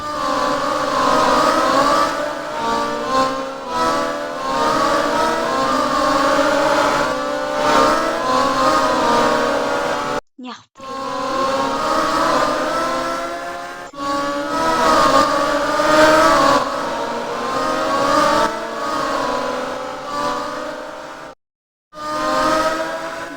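A car driving around, its engine droning steadily with rises and falls in revs, loud and close, broken by two brief dropouts.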